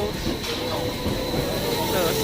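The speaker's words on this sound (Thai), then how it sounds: "ทุกคนรถไฟมารับเราแล้วนะคะ" Train pulling into a station in the Swiss Alps on the Jungfraujoch line, a close, steady rumble of rolling wheels and carriages with a high whine, while someone speaks over it.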